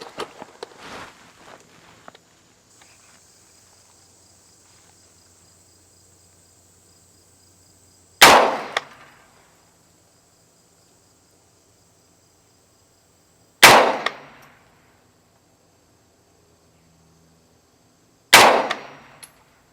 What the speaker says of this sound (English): Here's a look at the last 5 shots that I fired after establishing that zero.